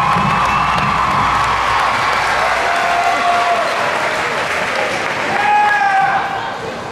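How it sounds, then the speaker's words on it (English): Applause from a crowd for a high school football team playing in the state playoffs fills the room with sustained clapping, cheers and shouts from children, close and loud, fading slightly toward the end. "Give them a round of applause."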